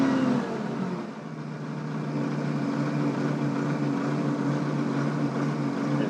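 Michigan L30 loader with a rebuilt Perkins diesel held at about half throttle, a steady, loud low droning engine note that runs continuously with no talk over it.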